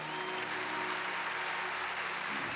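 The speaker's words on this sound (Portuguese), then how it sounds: "E os que creem aplaudam o Senhor." A church conference congregation applauds in a steady, dense burst of clapping that fills the hall, loud and continuous with no talk over it.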